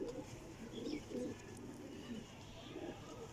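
Red-eyed breeder pigeons coo softly in repeated low throaty phrases, faint and close by, while someone talks quietly nearby.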